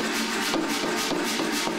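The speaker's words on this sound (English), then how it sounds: "Our hammer beats down on a bright yellow stick, chipping away at the edges as little bits sprinkle to the ground." A blacksmith's hammer beats down on a bright yellow, fire-hot steel bar fresh from a propane furnace, chipping at its edges. Sharp metallic strikes land in a steady rhythm of about five blows, close and distinct.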